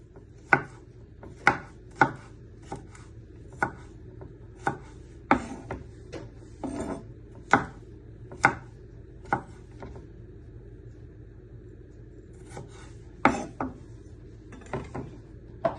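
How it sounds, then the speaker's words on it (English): A knife slices garlic finely on a cutting board for a chicken balti curry, giving crisp, close, irregular chopping taps that come in quick bursts with short pauses between. "just slice it into little pieces,"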